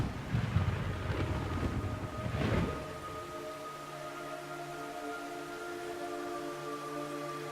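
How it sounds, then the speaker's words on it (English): Steady rainfall in the Metal Gear Solid 3: Snake Eater video game, a continuous even hiss that is louder and rougher for the first few seconds and then settles into a quieter wash beneath a faint sustained tonal hum. "It's raining blood."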